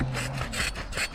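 A drill or cutting tool grinds into the metal seat tube of an old Total BMX bike frame, a steady rasping scrape with regular pulsing strokes, close and continuous with no talk.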